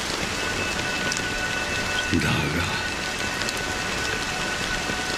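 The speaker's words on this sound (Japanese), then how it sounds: "雨はまだ止んでいない。" Steady rain pours heavily and evenly throughout, a continuous loud hiss of falling water during a video game boss fight, with a brief spoken word partway through.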